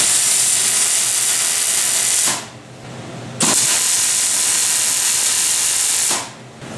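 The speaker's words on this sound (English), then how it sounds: "We're going to weld here and here." Welding on a fitted metal part gives a loud, steady broadband hiss in two long bursts, with a short pause between them and a third burst cutting off near the end.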